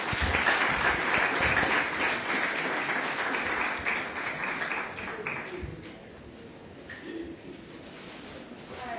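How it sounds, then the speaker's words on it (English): A warm round of applause from a COP 28 panel audience: dense, loud clapping for about five seconds that then thins and fades into quieter room noise. "let's give them a warm round of applause"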